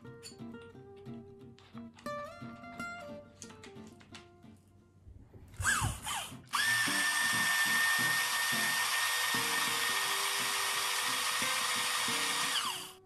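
A drill bores tone holes into a raw carrot being made into a clarinet-like instrument, a loud high continuous whirring that runs steadily for several seconds after some earlier clattering and tonal sounds.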